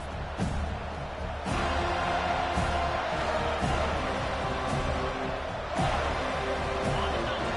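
Loud, continuous crowd roar filling a large football stadium during a USC vs. Florida State game, with a steady wash of voices and occasional sharper bursts rising above the din.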